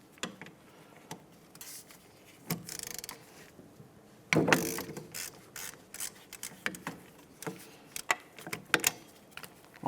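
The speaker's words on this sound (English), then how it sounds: "I'll break all of them free real quick." Irregular ratchet clicks and metallic scrapes come in short, uneven bursts as the 12mm rear hub mounting bolts are broken loose on a 2009-2010 Pontiac Vibe, close up, with one louder burst midway and no speech.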